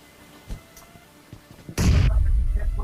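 A grenade goes off in a battle royale shooter, a sudden loud close blast at the end of the clip, following a few soft faint pops and thuds.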